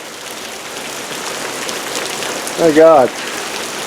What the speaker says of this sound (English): And we've got more rain.